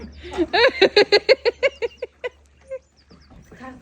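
A quick run of about a dozen loud, nasal honks in steady rhythm, followed by a few scattered calls, close by.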